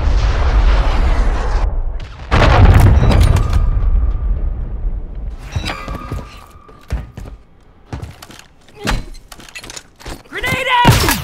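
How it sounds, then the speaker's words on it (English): A heavy, booming impact with crunching debris at the start, marking a cruise missile strike in Call of Duty Modern Warfare 3, followed by scattered smaller thuds, clanks and gunfire. Brief voices break in near the end. "Hostile cruise missile incoming."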